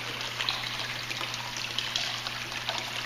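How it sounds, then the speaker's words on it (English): A wall fountain pours a thin sheet of water down its face, producing a steady close splashing hiss with light trickling detail that stays constant throughout. "You see how the water comes sheeting down from the hat underneath the"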